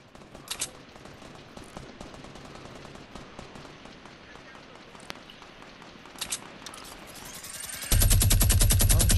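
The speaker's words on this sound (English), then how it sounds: "I'm shooting it up." Rapid minigun fire in a video game, a dense continuous rattle of shots that swells loudest in the final second, with bursts of gunfire throughout.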